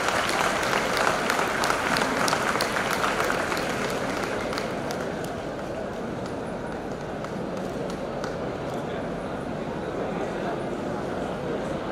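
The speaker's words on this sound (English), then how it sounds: "Give a big round of applause." Audience applause at an HR conclave fireside chat, a strong wash of clapping that settles into a steady dense roar mixed with crowd noise and low room rumble.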